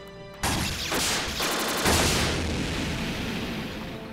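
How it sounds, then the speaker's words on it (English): Booming explosions from a fantasy action game, a dense, continuous roar of blasts and crackling impacts that swells after a short quiet start and stays loud throughout. "So much explosion."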